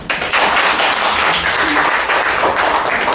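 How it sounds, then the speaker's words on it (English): An audience at a women's writers' reading event applauds to welcome a poet, a dense, loud, sustained wash of clapping filling the room. "Let's give her a round of applause"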